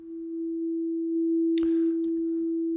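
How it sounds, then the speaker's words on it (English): Max/MSP software oscillators produce a steady pure sine tone that holds evenly throughout, joined midway by a brief brighter burst of higher tones before the single tone continues alone. "So that's one of the oscillators coming through on its own, and that's the other one."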